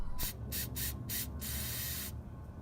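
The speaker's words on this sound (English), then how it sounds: "If you see an old rusty bolt like this, it is recommended to give some rust loosener so you can remove them easily." Rust loosener is sprayed from a can onto an old rusty bolt on a front-wheel-drive car in several short hissing bursts and then one longer spray, close and clear.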